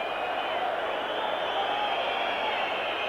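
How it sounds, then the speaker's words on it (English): Hostile football stadium crowd at a 1986 UEFA Cup match, Hajduk Split against Dundee United: a steady, loud roar of whistling and jeering with a high whistle tone, unbroken for the whole stretch. "The crowd getting hostile now and it's gone out."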